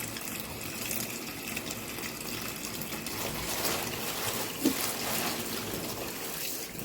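Cold water runs from a kitchen tap into a sink for washing fresh collard greens, a steady soft rush with a faint trickle, fairly quiet and continuous with a small splash near the end.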